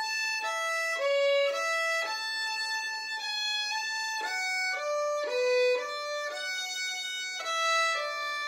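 Solo fiddle plays the second half of the Oriole Hornpipe, a clear sequence of bowed notes in a steady lilting rhythm, close and unaccompanied, with no talking.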